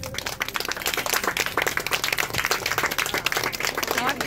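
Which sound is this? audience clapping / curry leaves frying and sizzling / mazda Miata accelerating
audience clapping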